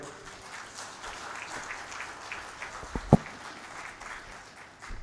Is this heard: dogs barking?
no